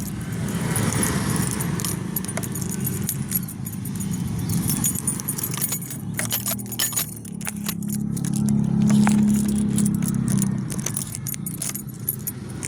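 A set of keys jangles and clinks in bursts of bright metallic rattles over a steady low hum from a nearby vehicle, with no talk.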